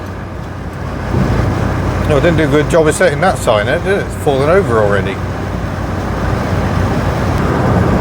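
A £200 Perodua hums with steady road and engine noise while driving on a long motorway trip, a constant low drone under someone talking over it.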